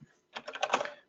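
Rapid typing on a computer keyboard during unit-testing coding work: a dense, fast burst of clicking keystrokes lasting under a second, close and fairly quiet, with no talk.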